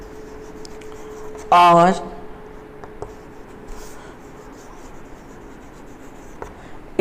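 Handwriting during a 5th-standard English grammar lesson, a faint, continuous scratchy rubbing that runs under the room's background noise, broken by one brief spoken word near the start.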